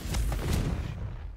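A Confringo spell blast in Hogwarts Legacy: one short, heavy boom with a sharp attack and a rumbling tail that decays over about a second.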